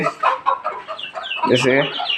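Quails in a new cage at dusk give rapid clucking and chattering calls, one bird nearby breaking into a louder, harsher burst toward the end.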